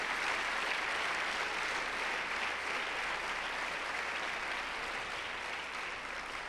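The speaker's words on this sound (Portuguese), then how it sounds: "Podemos aplaudir o nosso Deus?" Sustained applause from a congregation in church, dense, even clapping that fills the room for several seconds at a steady level, with no voices over it.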